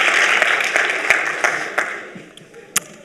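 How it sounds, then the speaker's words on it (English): A conference audience at a pitch challenge final claps in a burst of applause that is loud at first and thins out toward the end, with a final sharp clap. "Big round of applause"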